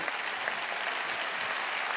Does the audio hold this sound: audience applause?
yes